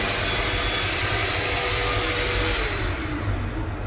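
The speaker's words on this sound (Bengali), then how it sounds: "automatic hand dryer" An automatic hand dryer runs in the toilet of a Vande Bharat train, a steady, loud broadband blowing roar that holds throughout with a rumbling undertone and no voices.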